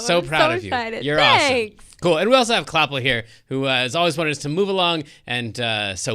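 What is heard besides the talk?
No everyday noises stand out.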